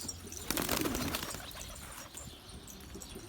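Pigeons in a home garden, with soft cooing and a burst of wing flapping early on over steady outdoor ambience, moderately near, with no talking.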